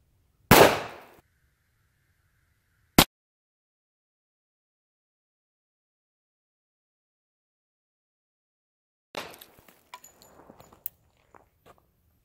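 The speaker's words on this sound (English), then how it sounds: "So I'm gonna hurry up and shoot it again." A rifle shot fired at an ice balloon gives a sharp loud crack, followed by a second sharp snap and later scattered crackling and clattering of breaking ice, with quiet in between.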